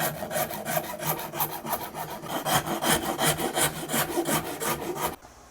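A rasp is drawn back and forth across the wood of a custom guitar body, raking off a point in a quick, even series of gritty strokes, close and loud, ending abruptly.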